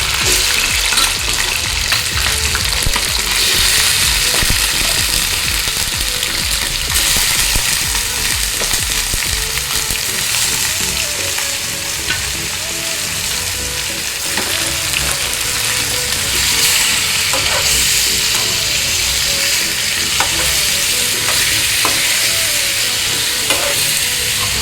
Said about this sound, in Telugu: ఉల్లిపాయ మంచిగా వేగాక చికెన్ వేసుకుంటున్నాను.